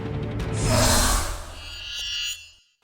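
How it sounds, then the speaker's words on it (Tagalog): Floodwater rushes down a sloping street in Cebu City after monsoon rains, a loud broadband roar that swells and holds for about two seconds before cutting off abruptly. "Rumaragasa ang tubig sa pababang bahaging yan ng kalsada sa Cebu City kahapon."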